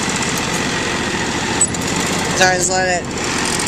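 A 2004 John Deere X575 lawn tractor engine runs steadily at part throttle, a continuous close buzzing drone under someone speaking.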